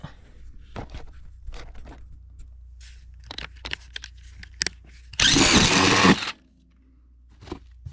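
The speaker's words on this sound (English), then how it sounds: "I got the hole drilled." A power drill whirs in one short loud burst of about a second, surrounded by scattered knocks and clicks.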